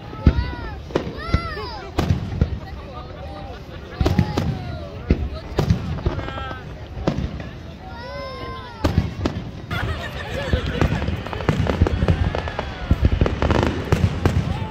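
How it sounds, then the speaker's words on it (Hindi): Fireworks burst at a Canada Day celebration by the water, sharp repeated bangs and crackles coming in irregular clusters, with whistling rises and people chattering and cheering throughout. "गजब आतिशबाजी हो रही है, बहुत गजब।"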